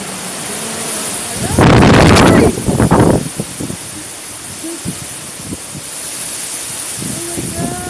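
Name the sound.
strong typhoon wind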